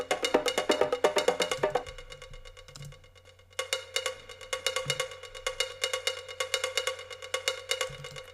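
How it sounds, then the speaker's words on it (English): A cowbell sample plays solo in an electronic drum track, bright metallic hits repeating in a steady rhythmic pattern over a low sustained bass, loud and close. "This is the cowbell on its own."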